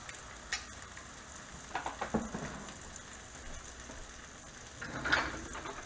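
Bacon-flavored Spam cooks in oil on a cast iron griddle, with a soft, steady sizzle broken by a few brief louder pops and spatters.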